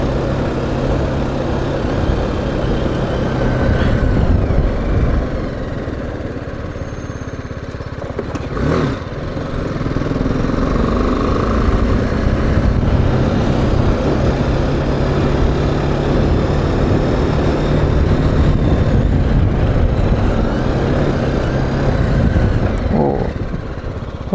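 A BMW G310GS adventure motorcycle rides a rough, bad-road trail, its single-cylinder engine droning loud and close throughout, with wind buffeting and brief bumps over uneven ground and no talking.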